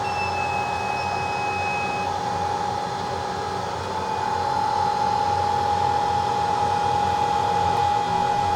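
Hot air rework station heating a Hisense 75H6570G 4K TV board and BGA chip for desoldering, a steady blowing hiss with a constant high electronic whine, close and unbroken throughout.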